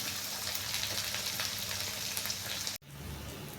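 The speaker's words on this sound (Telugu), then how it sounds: "1 రెమ్మ కరివేపాకు వేసుకోవాలి. ఒక స్పూన్ పసుపు వేసుకోవాలి." Curry leaves and turmeric sizzle in hot oil as onions and green chillies fry, a steady dense crackle that cuts out abruptly near the end, then resumes slightly softer.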